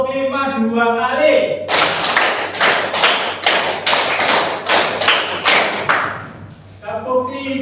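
Junior high classmates play a classroom clapping ice-breaker, clapping a five-beat pattern twice: about ten crisp, loud group claps in steady rhythm, with a teacher talking before and after.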